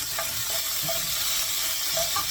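Boiled cluster beans frying in a pan with already fried onions, a steady close sizzle and hiss with a few soft scrapes of stirring, no voices.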